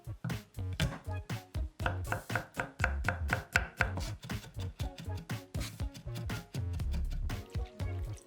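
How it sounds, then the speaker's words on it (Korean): A knife chops three whole garlic cloves on a cutting board for a Korean stir-fried squid and fish cake side dish. The blade gives rapid, steady thuds close by, with no break in the rhythm. "통마늘 3개도 다져줍니다."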